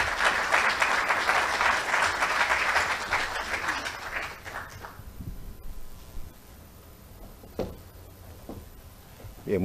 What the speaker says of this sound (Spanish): con un caluroso aplauso, por favor.